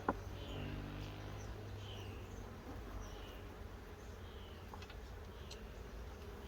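Honey bees around frames at nucleus colonies in an apiary make a faint, steady low buzzing hum that persists without a break, with no talking.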